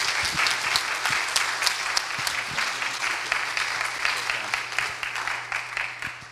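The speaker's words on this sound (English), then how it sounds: "So let's give him a big round of applause." A seated audience gives a speaker sustained applause, dense steady clapping from a crowd throughout, with no words spoken over it.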